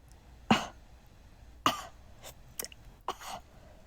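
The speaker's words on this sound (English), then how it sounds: "I'm gonna have to How dare. level out all of those coughs because they definitely peaked the audio." Four or five sharp, loud coughs come close to the microphone in separate bursts over a few seconds, with short quiet gaps between them.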